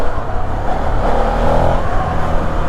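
A Ducati Hypermotard V2 motorcycle engine revs hard and steadily past 5000 rpm, a loud dense roar heard close up with wind noise and no talking.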